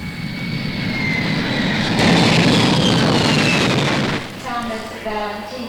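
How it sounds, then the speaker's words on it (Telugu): Airplane arriving: a loud, continuous jet engine roar that swells toward the middle and then cuts off, followed by a short stretch of voices talking. "ఏమండి విమానం వచ్చేసిందండి."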